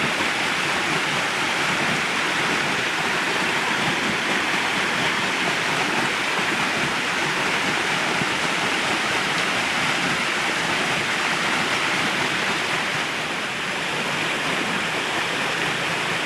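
Water rushes at increased flow through a generator setup, a dense, steady roar of close, turbulent water like a small waterfall, continuous for the whole stretch with no speech.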